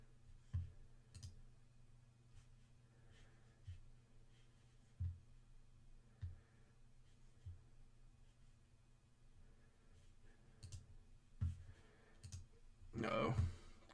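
A computer mouse clicks sharply and close, single clicks spaced every second or two over a quiet room hum, followed by a louder rustle at the end.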